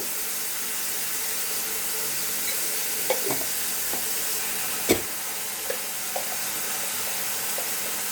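Fish head and bottle gourd curry base frying with chilli powder, turmeric and cumin in a pan, giving a steady close sizzle broken by a few sharp spoon clinks and scraping stirs.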